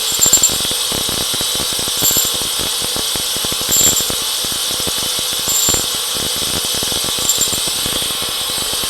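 A bench grinder steadily grinds a tungsten chrome alloy tap, throwing sparks and making a continuous, loud, high-pitched whine with a rough grinding texture and slight rises in intensity.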